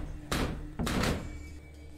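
Doors in the VR game Kill It With Fire thud open in two quick, fairly close knocks, the second a little longer and heavier, followed by a quiet low hum.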